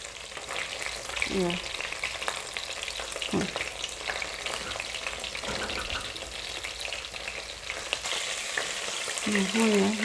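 Fish fries in hot oil for an Assamese fish curry, a steady dense sizzle with occasional stirring clinks and scrapes in the pan, close and continuous throughout.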